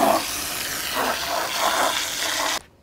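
Water pours onto freshly sawn slabs from a very large log, a close gushing, splashing rush that swells and eases for a few seconds and then stops abruptly.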